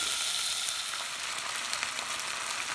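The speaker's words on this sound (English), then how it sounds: "I'm just going to let them fry, give them a mix around, and leave them to fry for about another 5 minutes before I add in my veg." Meatballs frying in a pan for sweet chili meatballs give off a steady, dense sizzle that holds at an even level throughout, with faint crackles popping through the hiss and no voices.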